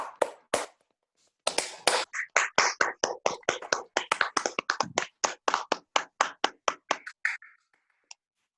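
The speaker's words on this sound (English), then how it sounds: "Can we have a big round of applause for both of them?" A few sharp claps, then a brief pause before a steady run of individual handclaps from a small group at a Toastmasters meeting, tapering off to a last clap.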